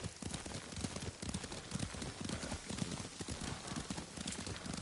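Galloping horse hooves beat in a quick, steady rhythm while riding in the video game Ghost of Tsushima, close and continuous throughout.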